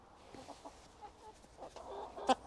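Allotment chickens clucking close to the camera, a few soft scattered clucks and murmurs ending in one sharper call, quiet overall.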